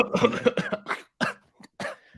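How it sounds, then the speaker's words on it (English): A series of harsh coughs in quick succession, then a few more spaced-out hacks after a short pause, close and clear. "the cough sounded real"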